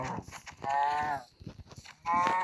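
Cows in the Minecraft video game give two drawn-out, clear moos with a short gap between them, loud and close, with no talking.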